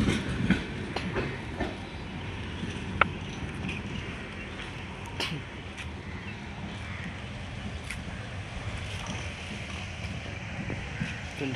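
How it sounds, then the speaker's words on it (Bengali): A long train rolls past at New Jalpaiguri station, a continuous low rumble with scattered clicks and clacks of wheels over rail joints, fairly distant and steady throughout. "ট্রেনটা চলে গেল, এই মুহূর্তে"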